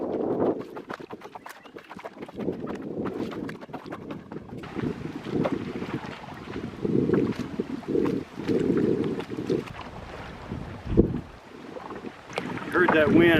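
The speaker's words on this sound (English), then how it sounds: "Heard that wind." Gusty wind buffets the microphone in uneven bursts, with faint water sloshing and occasional knocks close by.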